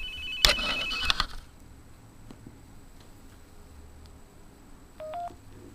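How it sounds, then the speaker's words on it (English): A cell phone rings with a bright electronic tone burst near the start, then goes quiet apart from faint room noise, with a short beep near the end; the call comes through a magicJack internet phone line. "As you might be able to hear, my cell phone is ringing."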